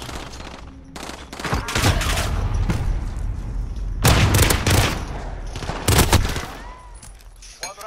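Loud automatic gunfire in the shooter Call of Duty: Modern Warfare, sustained bursts with several sharp, heavy blasts standing out, close and dense throughout.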